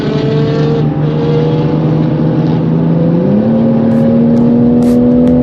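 Toyota Supra and Nissan GT-R (R35) racing past on a cruise, giving loud, sustained engine drones with clear tonal harmonics; the pitch climbs as the cars accelerate, shifting up sharply about two-thirds through, with no talk.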